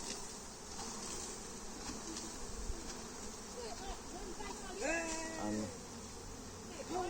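Honeybees from a shaken nuc box swarm around a beekeeper, their steady buzzing close and continuous, with a brief word spoken over it.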